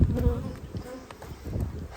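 Honey bees swarm around an open beehive in a bee yard, producing a dense, continuous buzzing hum close by, with individual bees zipping past the ear.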